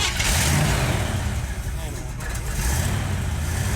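A hot rod car engine fires up and runs steadily, loud and close, with a rough rumble that rises and dips slightly before settling, while people talk nearby.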